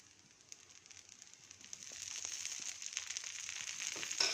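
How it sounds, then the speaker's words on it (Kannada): Oil sizzles on a hot pan as buttermilk dosa roasts, a soft crackling hiss that slowly grows louder and steadier, heard close with no voices. "ಇದಕ್ಕೂ ಸ್ವಲ್ಪ ಎಣ್ಣೆ ಹಾಕಿ ರೋಸ್ಟ್ ಮಾಡ್ಕೊಳ್ತೀನಿ"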